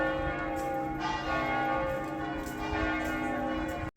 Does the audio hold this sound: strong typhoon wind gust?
no